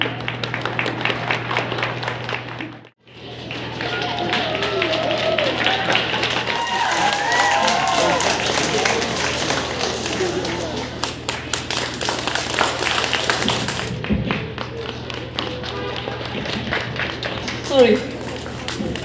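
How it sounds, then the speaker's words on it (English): A school audience at Little Angels Secondary School gives a sustained round of applause, dense and even clapping from many hands that runs for most of the stretch, briefly stops, then resumes under some speech. "Please give her a round of applause."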